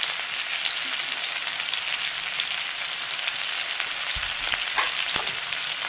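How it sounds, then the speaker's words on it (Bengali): Potato pieces fry in a pan with a continuous bright sizzle, stirred now and then with a few soft scrapes near the end, close and steady throughout. "আলুটা কিছুক্ষণ নাড়াচাড়া করে এর মধ্যে দিয়ে দিচ্ছি লবণ স্বাদ মতন"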